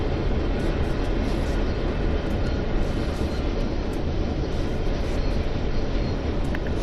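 Freight wagons of a lengthy goods train rumble continuously by on the Greenbriar Branch of the Clinchfield Railroad in Train Sim World 2, a constant, full-bodied roar that stays level from start to finish.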